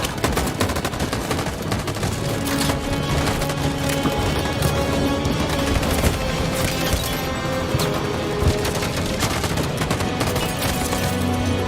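Sustained gunfire in the Detroit: Become Human video game, dense continuous volleys of shots with crashes, loud and unbroken throughout.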